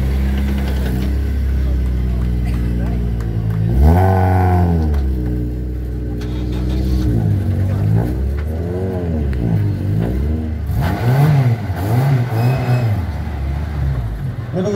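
A rally car at a rally awards ceremony in Boryslav revs its engine in rising and falling bursts, then drives off, with people talking over it throughout.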